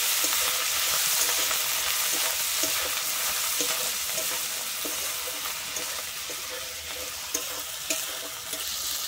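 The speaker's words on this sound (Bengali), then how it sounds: "আমি আদাটা দিয়ে কিন্তু এখানে একটু খুব ভালো করে ভেজে নেবো" Ground ginger paste sizzles steadily in a pan for a Bengali fish curry, with soft stirring scrapes and clicks coming through the hiss. No one speaks.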